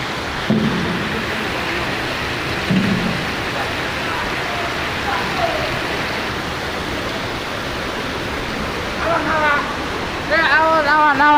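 Heavy rain falls at a factory as a dense, steady roar of broadband hiss throughout, with a few brief voices and squeaky sounds near the end.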